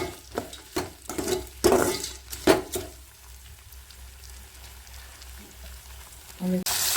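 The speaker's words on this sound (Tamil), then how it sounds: "காய் சேர்த்து நல்லா வணங்கணும் எண்ணெயிலே எல்லாம் பொரியணும்" Manathakkali berries fry in hot oil in a pan for kai thokku, a steady soft sizzle under several sharp spoon scrapes and knocks early on, then a quieter crackle, with a brief clatter at the end.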